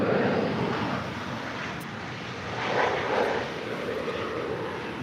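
An American Airlines Boeing 787-8 Dreamliner, six years old, departs LAX, its jet engines a steady, loud broadband roar that swells slightly midway and holds without talk.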